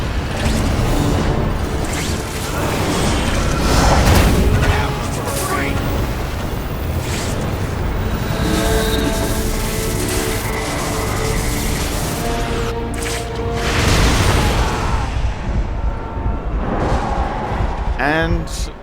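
A loud, booming explosion from The Amazing Spider-Man video game rumbles on and on over continuous game sound and music, with a voice talking over much of it.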